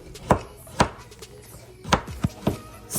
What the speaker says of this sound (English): I have a medium size of potato, and I wanted to slice into very thin